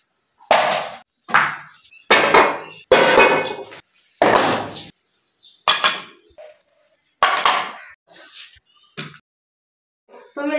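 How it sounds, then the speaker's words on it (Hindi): A kadhai (wok) and a frying pan set down on a village kitchen stove: a close series of about a dozen sharp metallic clanks and knocks, irregularly spaced, with silence between them. "कढ़ाई भी रख ली है और फ्राई पैन भी रख लिया"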